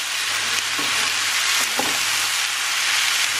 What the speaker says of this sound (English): So I just added the beef back to the pan, and I'm going to add tomatoes. Added tomatoes, got to stir that through.